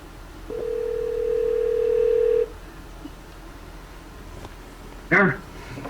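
A telephone call placed from inside a classic MGA car, with a steady dial tone for about two seconds, then quiet, followed by a short burst of ringing or dialing tones near the end.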